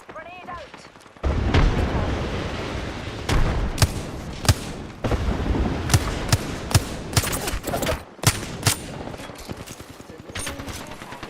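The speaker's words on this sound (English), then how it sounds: "Grenade out." Grenade thrown and exploding amid a video game firefight, with heavy booms and bursts of gunfire over a continuous battle din, punctuated by sharp repeated impacts.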